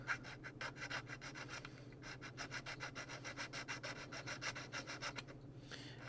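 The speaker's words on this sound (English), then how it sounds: "So a tiny bit of filing, just to take her down to the bare metal here" A small metal file strokes rhythmically back and forth across the metal hinge of an Ecto-1 model car, quiet rasping scrapes in steady quick bursts over a low background hum.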